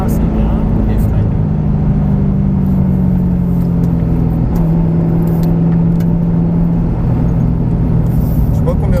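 A Ford Mustang GT500 drives on a track during a driving course, its engine a loud, steady rumbling drone that holds throughout with slight pitch shifts, while an instructor's voice talks over it.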